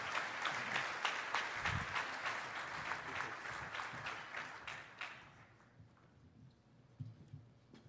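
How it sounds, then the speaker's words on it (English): A conference audience at the LANPAC keynote applauds Admiral Paparo, a full round of many hands that gradually thins and fades out, leaving a few stray claps and faint room noise. "Please give Admiral Paparo a big round of applause"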